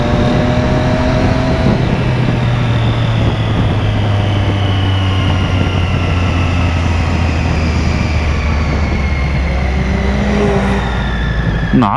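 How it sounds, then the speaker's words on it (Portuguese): A propeller or jet airplane passes overhead while heard from inside a car on the road in Curitiba. Its tone sweeps slowly above a loud, steady engine and road drone, with no talk. "Ó, avião! Vum."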